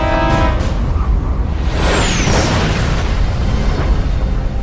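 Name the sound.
armor-piercing shell hitting battleship Hood, explosion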